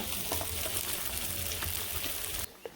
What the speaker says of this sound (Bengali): পেঁয়াজ ভেজে নিই